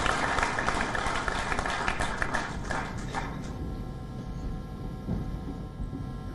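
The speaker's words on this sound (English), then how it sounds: "please join me in applauding a wonderful inaugural speech" Sustained audience applause fills the hall after Prime Minister Netanyahu's inaugural address at the Raisina Dialogue, a dense, steady wash of many hands clapping that gradually thins toward the end.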